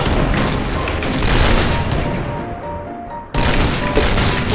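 Gunfire from a DSR-1 sniper rifle in an online shooter game comes as a dense, loud volley of blasts and booming impacts. It is broken by a brief dip into quieter rumble before abrupt firing resumes.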